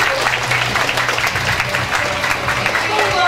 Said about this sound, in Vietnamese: chúng ta hãy cùng nhau đứng lên và dành một tràng vỗ tay thật to để chào đón diễn giả của chúng ta